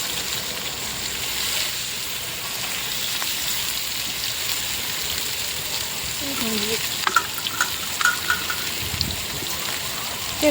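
Fish frying in hot oil on a flat dosa griddle, a steady broadband sizzle running throughout with a few brief crackles and pops near the end, close and alone with no talking.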